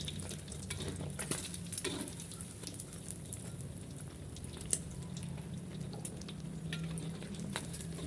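Eggs fry in a pan with steady, soft sizzling and crackling oil that runs unbroken throughout, with a few faint clicks and stirring sounds over it.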